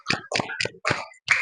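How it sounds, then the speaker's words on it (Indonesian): Sharp handclaps in a classroom at the end of a lesson, five distinct close claps in an uneven rhythm with brief silences between them. "Ayo tepuk tangan untuk semuanya"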